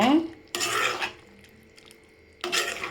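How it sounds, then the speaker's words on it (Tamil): A spoon stirs potato curry in a pan in two short, close bursts of scraping and rubbing, with a quiet pause between them and no voices. "சேர்த்து நல்லா மிக்ஸ் பண்ணிக்கோங்க"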